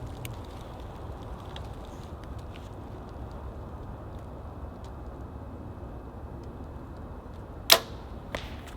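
An arrow is shot from a 2025 Mathews Lift X compound bow outdoors, a single sharp crack cutting through quiet background hiss, followed shortly by a fainter impact.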